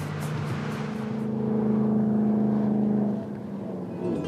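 A 2013 Shelby GT500 Cabriolet driving, its engine giving a steady low rumble that swells and holds before easing back, fairly close and without talk.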